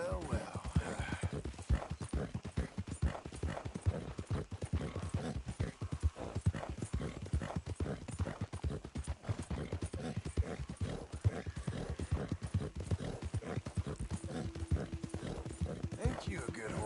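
Horse hooves clip-clop in Red Dead Redemption 2, a fast steady stream of close, crisp hoof strikes running throughout, with a few snorts and a voice talking to the horse over the top.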